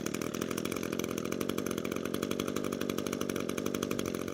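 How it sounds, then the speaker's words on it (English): Brush cutter's small two-stroke engine running with a steady, buzzing rattle like a chainsaw idle, continuous and moderately loud throughout without changes in speed; no talking. "And then we'll pull the recoil 2 to 3 more times and it should fire."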